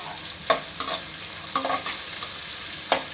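Cabbage, curry leaves and other rice noodle ingredients fry in oil with a steady sizzle while being stirred, with several sharp scraping and clanking strokes of a spatula against the pan. No one speaks.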